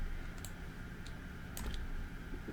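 Quiet computer mouse clicks, a handful of sharp isolated taps spaced irregularly over a low steady room hum, with no voices.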